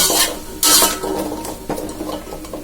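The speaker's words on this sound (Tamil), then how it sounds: "கேரட், முருங்கைக்காய் இதெல்லாம் நாம சேர்த்து வதக்கிக்கலாம்." Carrots and drumstick vegetables being sautéed in a pan, heard as close, loud scraping and rubbing stirring strokes that come in a few uneven bursts.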